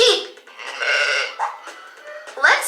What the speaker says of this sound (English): It's a sheep! Sheep!